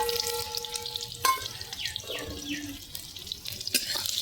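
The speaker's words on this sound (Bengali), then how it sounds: "তেলটা গরম হয়ে এসছে পেঁয়াজ দিয়ে দেবো পেঁয়াজ কুচো" Chopped onions hit hot oil in a pan for a chicken dish, giving a soft, steady sizzle with a few sharp clinks and scrapes scattered through it.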